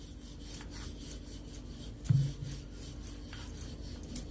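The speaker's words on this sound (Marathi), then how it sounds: "मस्त मऊ झाल्यामुळं पोळी लाटून घेते चांगली." A rolling pin rolls out soft sweet semolina-filled flatbread dough in a home kitchen, giving a faint, repeated rubbing and scraping with one brief louder knock partway through.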